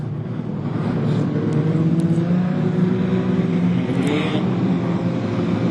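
Street stock cars roar steadily as several race past together at Gympie Speedway, a dense continuous drone of motors with no break.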